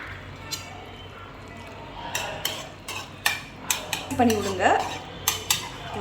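Pasta stirred into a creamy chicken white sauce in a pan, repeated metal utensil clinks and scrapes over a thick wet squish, close by, with no voices over the stirring.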